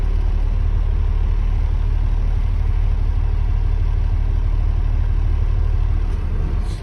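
Heavy truck engine idling steady and loud in the cab as the clutch is eased out and the truck starts to roll, a constant low rumble with no talk over it.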